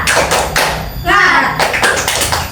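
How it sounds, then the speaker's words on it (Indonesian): Children in a classroom doing a rhythmic spirit clap, tapping and clapping their hands in quick bursts close by, with a short vocal shout in the middle and an adult voice nearby. "Oke, kita coba tepuk semangat."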